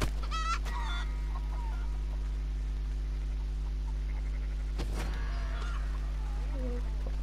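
Chicken clucking in Red Dead Redemption 2, with a few short bursts near the start and another around the middle over a steady low game hum and faint background voices.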